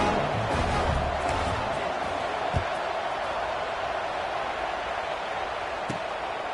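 Football stadium crowd waiting for kickoff, a broad continuous roar of many voices with a couple of sharp thumps, steady and distant throughout.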